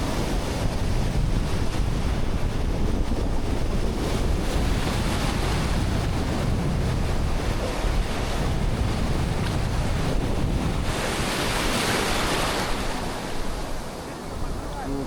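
Sea waves wash and break continuously in a loud, rushing roar, with wind buffeting the microphone throughout.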